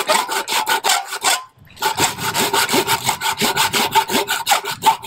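A hand saw cuts through a small wooden circle held in the hand, rapid loud rhythmic rasping strokes close up, with a brief pause before the sawing resumes.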